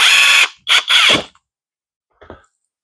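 Power tool spinning a screw into an Axial Coyote RC truck, with three quick loud bursts of whirring close by, a pause, then a brief faint final buzz.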